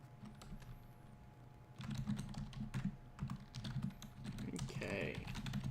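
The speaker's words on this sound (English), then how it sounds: "Sorry, I am typing server commands in real quick." Computer keyboard keys clatter in quick bursts after a brief quieter start, the typing getting busier toward the end over a steady low electrical hum.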